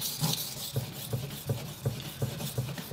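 Cloth rubbing and drying the blade of a knife being sharpened with a strop, heard as a steady series of about eight rhythmic rasping strokes, evenly spaced and close up, with no talk.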